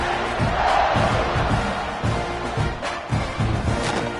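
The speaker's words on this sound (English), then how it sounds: "Do you think this crowd's going to get loud when their defense comes on the field?" Stadium crowd in the NCAA 26 college football video game, a dense continuous roar of cheering and shouting fans near kickoff, with bursts of louder yelling rising over the wash.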